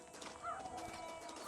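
Faint horse hooves clip-clop softly in Red Dead Redemption, a short quiet patch of hoofbeats over low ambient game sound.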